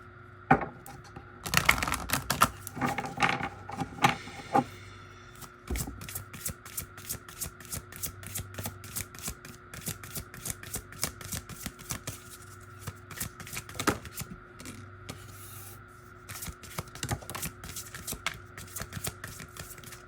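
A deck of Resurrection Oracle cards is shuffled for a long stretch, the cards riffling and slapping in quick, steady rapid-fire bursts close up, with heavier handling knocks at the start and no voices.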